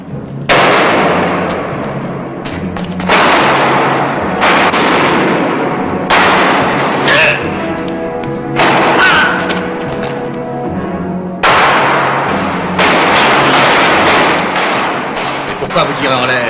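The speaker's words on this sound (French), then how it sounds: "Mais pourquoi vous tirez en l'air?" Gunshots fired into the air in a French-dubbed western film, several sharp cracks arriving in loose bursts with short gaps between them, loud and close, with speech mixed around the shots.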